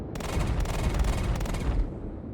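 Spaceship cannons fire in Star Citizen as rapid, heavy bursts of thumping shots over a dense rumbling bed, loud and sustained for about two seconds before the volley fades out.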